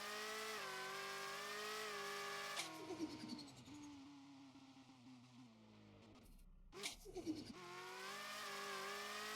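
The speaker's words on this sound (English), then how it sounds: "That's why this engine sounds a little bit different too." A modified engine runs steadily with audible gear changes and shifting revs, some tire or road noise mixed in, heard from inside or close to the moving vehicle at a low, even level.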